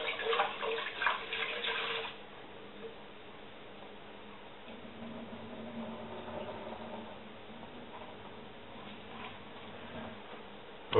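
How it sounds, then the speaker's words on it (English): Japanese rice is washed by hand in water before cooking in a Tiger rice cooker. Splashing and sloshing come close and fairly loud at first, then settle into a quieter, steady swirling with no talk. "Now we want to keep on washing this until the water is essentially clear."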